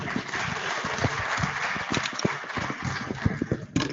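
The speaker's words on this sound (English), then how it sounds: "Let us clap him." Audience applause for a speaker at the close of a question session at a life science theme meeting, a dense, steady patter of many hands clapping throughout, fairly loud and continuous with scattered sharper claps.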